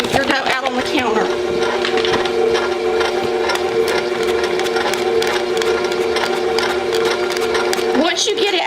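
A stand mixer kneads bread roll dough with a steady whirring motor hum and rhythmic knocking, continuous throughout, with brief talk at the start and end.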